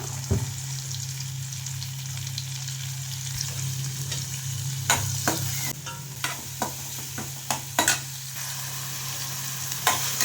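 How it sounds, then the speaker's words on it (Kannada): Onion frying in butter in a pan for palak paneer, a steady close sizzle with a low hum beneath and repeated spatula scrapes and taps, growing more frequent in the second half. "ಬೆಣ್ಣೆ ಸಣ್ಣದಾಗಿ ಹಚ್ಕೊಂಡ್ರೆ ಈರುಳ್ಳಿ ಸ್ವಲ್ಪ ಫ್ರೈ ಮಾಡ್ಕೊಳ್ಳೋಣ"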